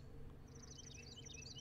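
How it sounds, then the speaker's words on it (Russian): In the video game The Forest, a bird gives a quick series of faint, high chirps over a low, steady ambient hum. "О! Птичка."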